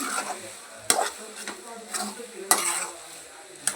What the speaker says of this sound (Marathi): आता ह्याला मी छान असं मिक्स करून घेते